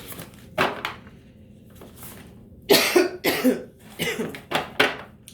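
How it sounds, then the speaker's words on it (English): A person coughs in several harsh, close bursts, a single cough first, then a rapid cluster of hacking coughs after a pause. "There is that coughing and choking again."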